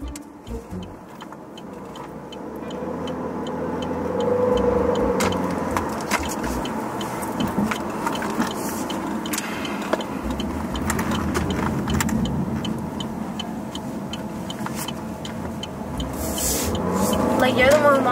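A car rolls along the road with a steady low engine and tire hum heard from inside the cabin, and people talk throughout.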